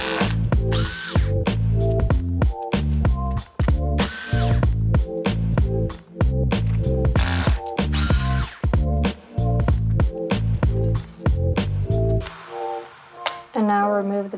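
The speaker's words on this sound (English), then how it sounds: "you can take out the screws holding it in" An electric screwdriver backing the battery screws out of a Lenovo 14e Chromebook Gen 1 laptop: loud, rhythmic motor whirring in repeated bursts with brief pauses, close up, then a few lighter clicks at the end.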